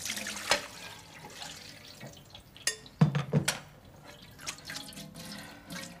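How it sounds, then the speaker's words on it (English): Soaked rice noodles drained at a sink for a vegetable stir fry, giving soft water drips and splashes with a few sharper clinks of dishware, close by and fairly quiet, with no talking. "I'm going to take and drain them"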